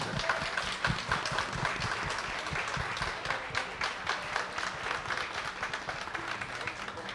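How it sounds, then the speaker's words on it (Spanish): An audience applauding children at a televised event, sustained dense clapping with uneven bursts that stays strong throughout, heard close and without speech. "Un aplauso a los niños."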